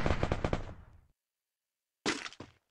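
A rapid burst of automatic gunfire in a video game rattles for about a second, followed by silence, then a second shorter burst of shots.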